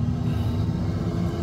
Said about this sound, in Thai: นี่คือเสียงท่อนะครับของรถที่ผ่านการ Modify ขนาดนี้